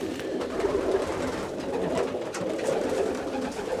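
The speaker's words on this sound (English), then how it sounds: "Beautiful pigeons." Pigeons coo softly and continuously inside a racing pigeon loft in Belgium, several birds overlapping in a low, murmuring hum with no voices.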